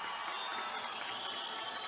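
An audience at an artists' gathering in Ravindra Bharathi hall applauds and cheers in a steady, dense wash of clapping and shouts, heard from a little distance and fairly faint.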